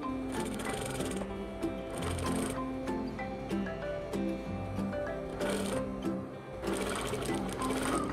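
A sewing machine stitches fabric for a tiered robe, running in loud bursts of fast, steady mechanical rattling that stop and restart between seams, close up with no talking.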